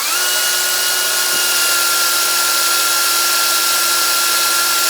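A power drill runs continuously at a steady high whine while priming the oil pump of a 1969 Jeep Gladiator engine, loud and close with an unchanging tone throughout.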